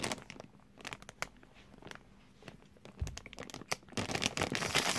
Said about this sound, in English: need to pop this bag open